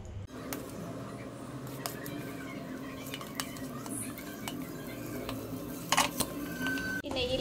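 A spoon stirs gram flour into ghee in a pan for besan laddu, giving soft, faint scraping with scattered metallic clinks against the pan, close and quiet with no talk.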